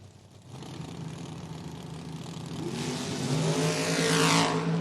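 Drag racing cars accelerate down the strip at a door-wars event, engine roar building steadily from a mid-level drone to a loud, rising rev that sweeps upward in pitch near the end.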